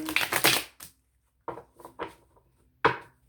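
Crisp riffling and slapping of tarot cards being shuffled, close by, in a few quick bursts separated by pauses.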